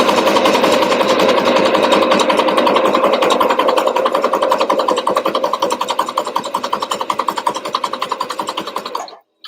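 A sewing machine runs continuously while stitching a paperback journal, with a loud, close, rapid rhythmic buzz of needle strokes that slows slightly toward the end before stopping abruptly.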